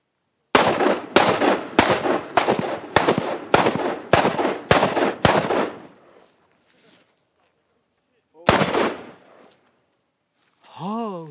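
About nine unsuppressed gunshots crack in quick, regular succession at a shooting range, loud and close, followed by a single later shot; a voice is briefly heard at the end.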